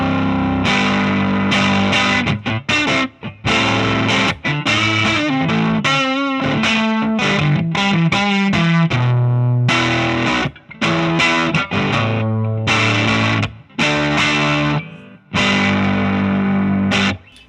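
Electric guitar played through a Runoff Groove Supreaux Deux distortion pedal, giving a thick, heavily driven tone with plenty of low end; close and loud riffing and chords, alone with no talking.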